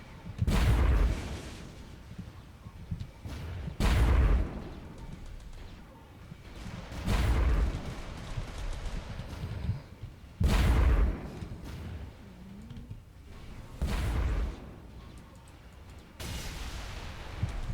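A light MAC cannon aboard the UNSC Templar fires in the space game Project Stardust, booming loud and heavy about every three seconds, each blast trailing into a rumbling decay.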